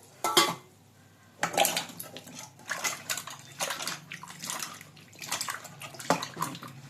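Rice washing water sloshes and pours in several bursts from a vessel, with light clinks of a pot between splashes, close and fairly quiet.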